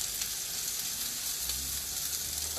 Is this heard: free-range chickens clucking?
no